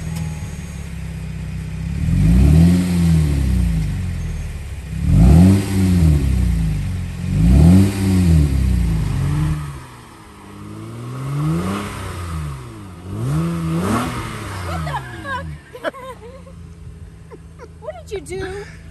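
A car engine fitted with electronic exhaust cut-outs, left open, revs loudly several times in a row with deep, throaty rises and falls. The blips then settle to a quieter idle, with people talking nearby.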